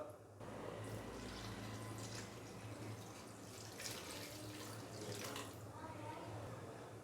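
Water pours steadily from a glass into a clay pot for beef karahi over ginger-garlic paste, a continuous splashing stream for several seconds that tapers off near the end.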